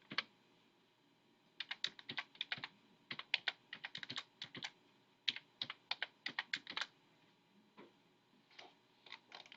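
A handheld calculator is tapped during a math lesson. Dozens of quick, close button clicks come in irregular bursts with short pauses between them, against a quiet background and with no talking.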